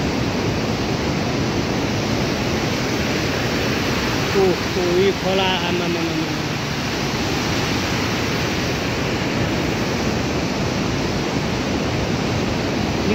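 River rushing below a bridge set between two cliffs, a steady broadband roar of flowing water heard from above, with a brief voice partway through.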